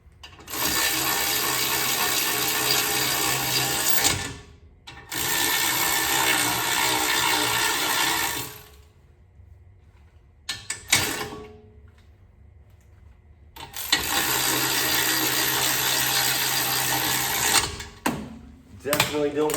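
Power tool spinning in the large caliper bolts during a front brake job on an Audi, with two long loud bursts of whirring, brief quiet gaps, short spurts and a final long run.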